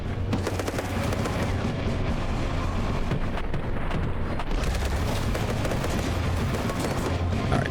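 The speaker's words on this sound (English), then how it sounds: "if we could all just start shooting things" Dense, continuous gunfire from the video game Borderlands, rapid overlapping shots and blasts crackling loudly and without pause throughout, with no talk over it.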